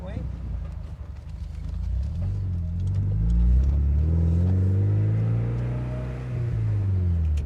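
A 1986 Porsche 944 engine pulls up through the revs from inside the car, a rising then falling low drone with a smooth, moderate loudness, with people talking over it.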